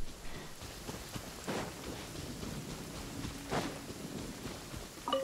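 Steady rain falls in Genshin Impact, a soft continuous wash with a couple of brief louder swells, heard alone with no voices.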